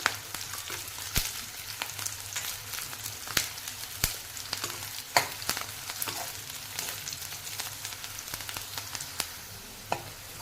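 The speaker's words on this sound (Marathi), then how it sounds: "त्या देखील आपल्याला गुलाबी रंगावर तळून घ्यायच्या कांद्याबरोबर त्या तळल्या जातील" Four garlic cloves fry with onion in hot oil, a constant soft sizzle broken by scattered sharp pops and crackles, heard close and fairly quiet with no talking.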